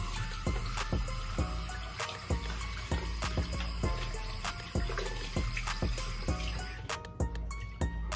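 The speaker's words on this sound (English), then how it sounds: "I'm gonna rinse my hands real quick." Hands rinsed under a running tap, a continuous loud rush of water with repeated sharp clicks and taps throughout, no voices.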